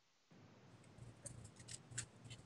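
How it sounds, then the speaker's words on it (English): Sharp scissors trim fly-tying fibers at an angle near the lead eyes of a fishing fly, giving a quick run of crisp, close snips over faint background hiss. "I'm going to take my scissors at about a centimeter away from the lead eyes and start trimming on maybe a 30 degree angle"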